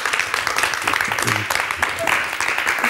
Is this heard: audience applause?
yes